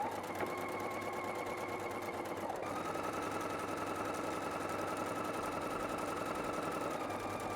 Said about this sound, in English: We're gonna sew at 1 inch